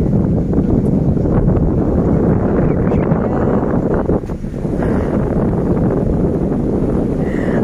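Strong wind buffets the microphone in a constant, loud roaring rush with gusty fluctuations throughout, outdoors in Izmir, Turkey.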